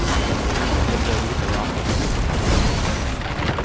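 Rocket explosions in the video game Risk of Rain 2 merge into a dense, continuous roar of booms and blasts, loud and close throughout with no voices.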